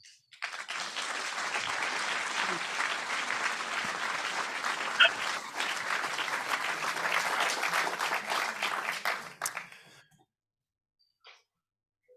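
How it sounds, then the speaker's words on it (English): Sustained applause from a community memorial gathering, a dense, even wash of many hands clapping for about ten seconds before stopping abruptly into near silence. "I'm not sure you can hear all the clapping and applauding"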